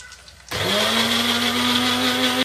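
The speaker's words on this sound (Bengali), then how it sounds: "এবারে এই বাঁচিয়ে রাখা ডাল বাটাটা মিহি করে বেটে নেব" A blender whirs to life after half a second of quiet, grinding soaked lentils into a fine paste, a loud steady motor whine that runs about two seconds and then cuts off abruptly.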